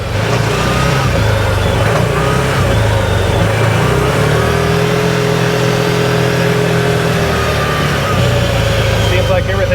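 An Odes Dominator 1000cc X4 LT utility vehicle drives with its engine droning loud and close, the pitch rising and easing as the gas is pressed and released, under intermittent speech.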